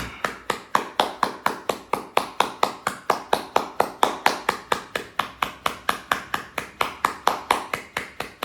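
One person claps hands in a steady, even rhythm, about three sharp claps per second for several seconds, close and clear with no talking, during a yoga breathing exercise.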